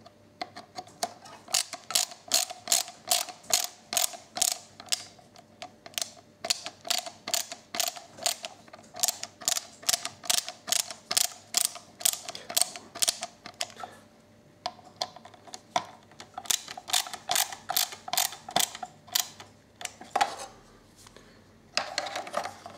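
Screws are driven into a plastic G-2D gimbal mount on an FY-X8, giving long runs of rapid, even clicking ratchet-like ticks with short pauses between them, close and clear with no voice over them.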